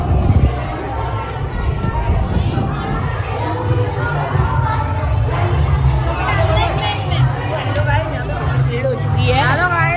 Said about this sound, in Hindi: ये देखो यहाँ की भीड़